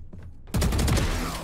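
A sudden loud burst of gunfire in the video game Valorant erupts after a quiet moment, dense and close, ringing out to the end.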